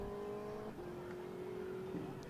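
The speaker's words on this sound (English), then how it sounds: "sounds a little like that car engine revving up along the PA system" A car engine revving sound effect plays over a high school football stadium PA system, a faint, distant rising and falling engine drone with echoing ambience.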